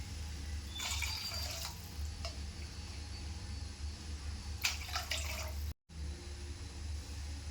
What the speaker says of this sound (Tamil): ரவை எடுத்த அதே கப்லேயே 3 கப் தண்ணி வச்சுக்கலாம்